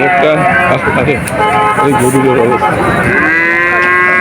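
Cattle moo loudly and repeatedly at a busy livestock market in Betaga, Bagerhat, with overlapping calls from several animals close by over a constant background of crowd chatter.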